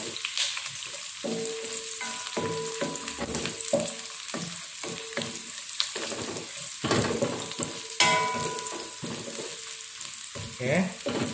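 Lemongrass, bay leaves and galangal sauté in hot oil in a pan with a continuous crackling sizzle. Stirring scrapes and clinks break through at intervals, close up.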